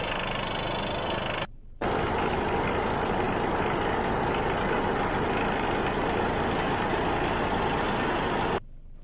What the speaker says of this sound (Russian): к нам сегодня приехала буровая машина